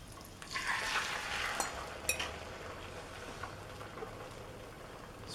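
An egg, sausage and pork mixture goes into a preheated pan and sizzles, with a hissing burst at first that settles into a steady, moderate frying sound and a couple of brief clicks.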